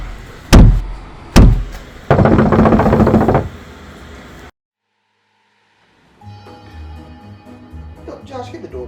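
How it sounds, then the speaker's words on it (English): Someone knocks hard on a house's front door: two heavy single thuds, then a fast burst of loud pounding, followed by a silent gap and faint room noise. "Josh, get the door, bro."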